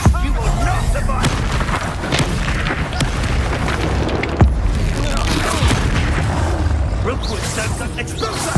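Magic explosions in the video game Hogwarts Legacy, with loud, booming blasts in a dense battle mix, including a strong hit near the start and another midway, while character voices speak over the action.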